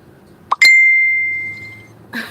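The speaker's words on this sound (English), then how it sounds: "My phone's been dinging." A phone notification rings out: a short tick, then a bright sustained electronic ding that slowly fades, followed by a brief rustle at the end.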